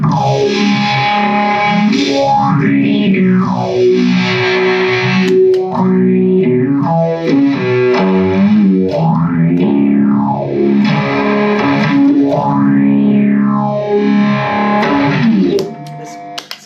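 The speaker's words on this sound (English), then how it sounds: "an electro-harmonic small stone phaser, and we use this heaps in our recording" Sustained electric guitar chords through an Electro-Harmonix Small Stone phaser pedal, the tone whooshing up and down in slow, rhythmic repeating waves before stopping abruptly.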